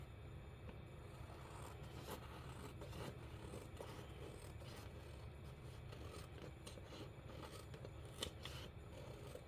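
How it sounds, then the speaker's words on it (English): Scissors snip and scrape steadily along the bottom edge of a paper page for a shabby-chic mint and roses mini folio journal, a close, quiet, continuous cutting sound with no talking. "Trimming the bottom."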